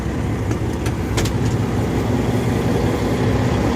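A truck engine idles and rumbles steadily up close, a constant low drone with a few faint higher clicks and squeaks over it.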